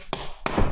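Hammer tapping a nut onto an SKF bearing: two sharp metallic taps about a third of a second apart, close and loud, with ringing decay after each.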